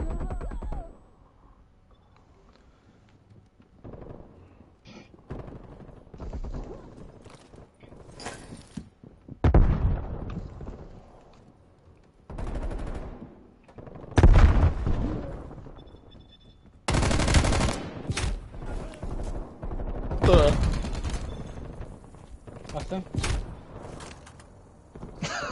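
Bursts of automatic gunfire and single shots crack out in Call of Duty: Black Ops Cold War multiplayer, loud and irregular, with quieter gaps and dull thumps between the volleys.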